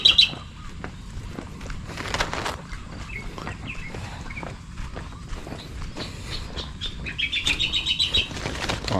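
Birds chirp in short high bursts over a busy rustle of flapping wings and shuffling movement nearby, with chirps clustering at the start and end.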